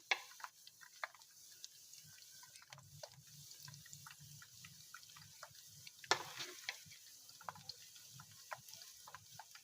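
Vegetable pakoras fry gently in hot ghee over low heat, giving a soft, steady sizzle with scattered pops and crackles at close range, with no talking.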